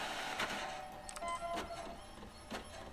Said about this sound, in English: it sounds like it's printing out on a very old looking printer